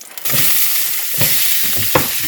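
Onions sizzle steadily in a hot pan for hamburger steaks and onion gravy, a close continuous frying hiss with a few soft stirring scrapes.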